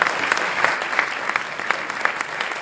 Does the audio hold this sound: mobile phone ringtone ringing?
no